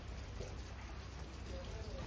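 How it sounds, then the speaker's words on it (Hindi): A continuous hiss of steady monsoon-season rain falling, fairly faint and even, with no clear voices over it. "बारिश का मौसम चालू हो गया"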